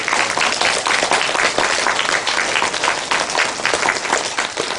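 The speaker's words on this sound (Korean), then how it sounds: "나올 때 우리 박수 한번 쳐드릴까요?" A church congregation applauding, dense and loud clapping from many hands that holds steady for the whole stretch, close and full.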